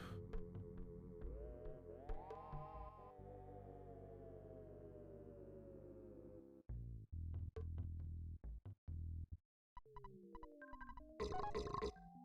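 Repeated burping effects sound in Belch Base from the Earthbound video game, a long droning belch followed by clusters of short, choppy burps and electronic game tones, all fairly loud with no talk over them.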